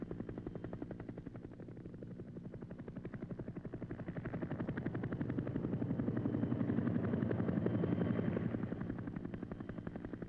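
A medical helicopter flies over Japan, its rotor beating in a steady, rapid rhythm with a strong low rumble that swells louder through the middle and stays loud to the end, with no talk.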